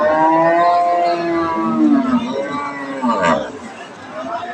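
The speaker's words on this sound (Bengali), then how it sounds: "গাভীরা কিন্তু মার্শাল্লাহ বেশ সুন্দর" A red-black dairy cow at a cattle market lets out a long, loud, wavering moo right nearby, with market chatter and voices around it.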